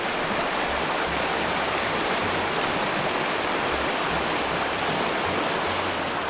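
A river in Argentine Patagonia rushes past in a steady, dense wash of flowing water, loud and continuous throughout with no voices over it.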